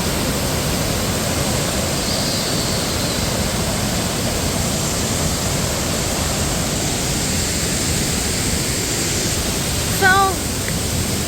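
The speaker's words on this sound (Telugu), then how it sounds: "వాటర్ ఫాల్స్ దగ్గరికి వచ్చాము వాటర్ ఫాల్స్ చూపించాం కదా" Waterfall in Coorg, a loud, dense, continuous roar of falling water filling the whole scene, with a brief voice near the end.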